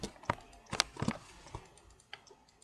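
Keystrokes on a computer keyboard during 3D modelling work, a quick irregular burst of distinct, close clicks and taps that fades into a few lighter presses, with no voice over it.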